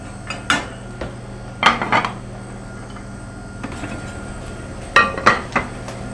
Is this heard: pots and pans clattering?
yes